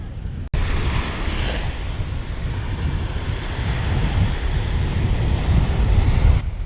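Gulf surf at Venice Beach, Florida, north of the pier: a steady, close wash of waves over sand with a roaring swell, mixed with wind buffeting the microphone.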